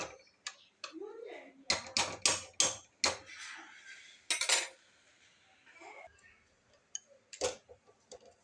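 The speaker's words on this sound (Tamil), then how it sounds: "இந்த மாதிரி கீரையை நல்லா மத்தால நல்லா மசிச்சு விட்டுட்டு" Cooked mixed greens mashed with a wooden churner in a pot, sharp irregular knocks and scraping clatters in quick clusters, fairly close, with a voice talking between the strokes.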